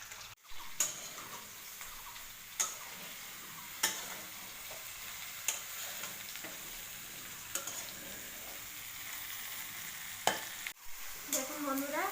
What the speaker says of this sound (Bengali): ঝিঙ্গাটা আলুর সাথে একটু সাঁতলিয়ে নেব।